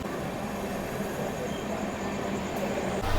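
Steady, continuous rumble and rattle of a long-distance passenger train running from Kolkata to Kalka, heard from inside a carriage as an even drone throughout.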